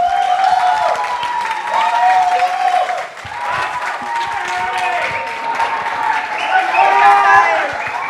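An audience applauds a second grade class at an Orthodox church gathering: sustained clapping from a crowd, loud and close, with an adult voice speaking over the applause.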